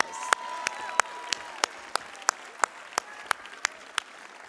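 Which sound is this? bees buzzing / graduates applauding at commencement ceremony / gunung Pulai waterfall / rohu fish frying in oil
graduates applauding at commencement ceremony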